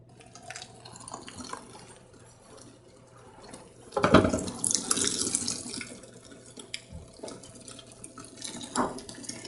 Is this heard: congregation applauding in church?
no